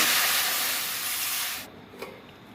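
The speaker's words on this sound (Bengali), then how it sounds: "কড়াইয়ে জল দিচ্ছি" Water poured into a hot wok, giving a bright, loud hiss and sizzle for about a second and a half, then cutting off into quiet with a small clink.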